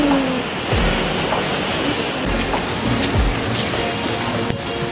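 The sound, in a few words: heavy rain pouring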